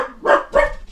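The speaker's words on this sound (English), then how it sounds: "Max said, bark, bark, bark." A dog gives two quick, close, loud barks, one right after the other, with no other sound around them.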